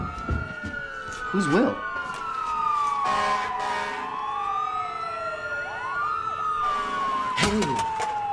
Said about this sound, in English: No, it's too many sirens.